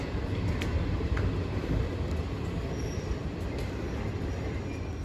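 A steady low rumble of a train in Venice, with faint squeaks and clanks over the continuous rolling noise.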